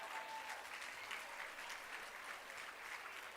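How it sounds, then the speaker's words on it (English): An audience at an annual awards celebration applauds in a dense, steady wash of clapping that holds at an even level from start to finish, fairly distant. "Let's just give the Fister a giant round of applause"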